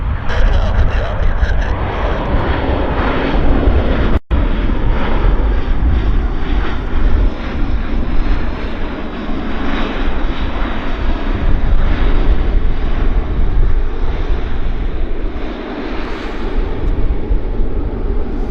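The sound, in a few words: airplane landing at Vancouver airport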